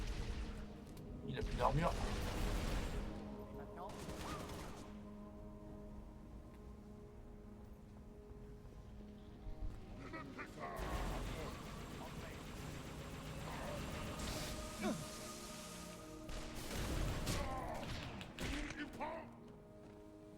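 Halo Reach combat with bursts of gunfire and heavy thumping blasts from a grenade coming in separate clusters, while someone talks over the action.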